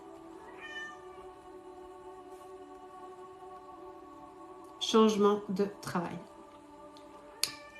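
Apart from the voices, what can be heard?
cat meowing and grumbling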